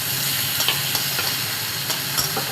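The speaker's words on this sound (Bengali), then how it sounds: "কালো জিরা যাতে তেতো না হয়ে যায় তার জন্য এর মধ্যে দিয়ে দিলাম পেঁয়াজ।" Onion frying in hot oil with black cumin seeds, a soft continuous sizzle broken by a few light scrapes and clicks of stirring, close and fairly quiet with no talk.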